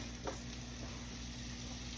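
Butter sizzles steadily in a pan with hibachi vegetables, a constant loud crackling hiss and a brief stir near the start, with no talking.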